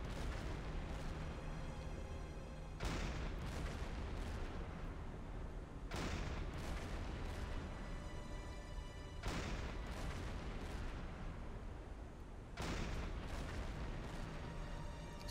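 A submarine deck gun in the Silent Hunter 5 naval game fires round after round at a ship, with heavy booming shots at roughly three-second intervals, each followed by a rumbling tail.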